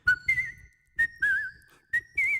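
A lone whistler carries the Seven Dwarfs tune from Snow White in short melodic bursts, the clear bright pitch gliding between notes with brief gaps, close and fairly loud.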